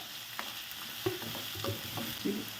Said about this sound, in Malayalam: ഇച്ചിരി ഉപ്പിട്ട് വഴറ്റാം കേട്ടോ